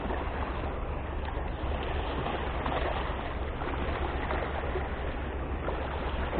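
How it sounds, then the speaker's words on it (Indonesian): Big ocean waves wash against the Priok harbor dam at night, a constant rushing, churning roar of water with no clear breaks, heard up close and with no talking. "Ombaknya gede."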